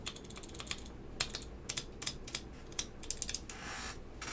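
Key switches on a Geon Works Frog TKL keyboard with Alps SKCM Ivory switches clack in irregular bursts of sharp taps, close and fairly quiet against a soft background hiss.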